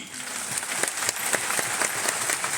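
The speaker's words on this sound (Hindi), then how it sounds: "दिल करता है कि हम जोर से मारिए ताली" Audience applause at a Kisan mela, a farmers' fair at GBPUAT Pantnagar University, as a dense, steady clapping crowd with no pauses.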